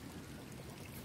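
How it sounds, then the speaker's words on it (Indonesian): River water flowing through irrigation channels beside rice paddies, a steady broadband rush that fills the whole clip evenly without pauses, close and continuous. "aliran sungai sawah melintasi tanah kita"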